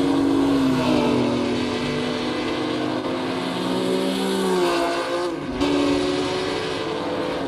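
Racing cars lapping the Nurburgring in Assetto Corsa, a tribute to the 1958 German Grand Prix. Engines drone loudly and steadily throughout with shifting pitch, and a brief dip and surge near the end as a car passes or shifts.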